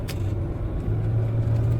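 A truck idles steadily nearby on a local road in the UAE, giving a low, even rumble with a constant droning hum and no talking.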